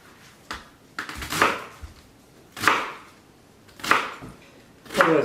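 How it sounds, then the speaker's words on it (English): A knife slicing down through a cabbage head into strips for sauerkraut, with four or five crisp crunching cuts landing on a board at an even pace, close and fairly loud. "Just slice down through the cabbage head"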